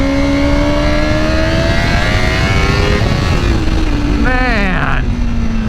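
A 2025 Honda CBR1000RR-R SP motorcycle accelerates hard in first gear, its engine note climbing steadily, then shifting and rising again in quick revving sweeps, loud and close throughout.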